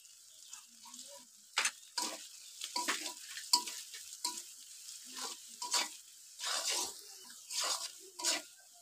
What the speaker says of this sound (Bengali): মশলা ভালোভাবে কষানো হয়েছে।